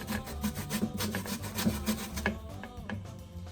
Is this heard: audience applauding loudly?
no